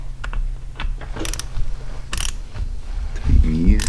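Socket wrench ratcheting on Yamaha V-Star 1300 motorcycle bolts in a home garage, a series of close, rapid clicking bursts over steady background hum, ending in louder tightening clunks.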